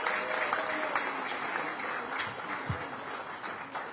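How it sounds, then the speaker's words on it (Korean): Audience applause at a Democratic Party political rally in Yeonggwang County, South Jeolla, Korea: a sustained crowd of clapping hands, fairly close and steady, with a few louder claps and faint background voices. "큰 박수 한번 주시기 바랍니다."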